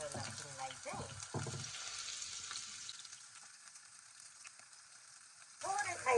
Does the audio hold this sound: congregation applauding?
no